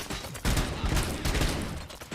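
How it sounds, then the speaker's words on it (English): Dense gunfire bursts from the shooter game RoboCop: Rogue City, loud rapid overlapping shots and impacts with no pause across the short stretch. "Guys, can you hear the gunshots?"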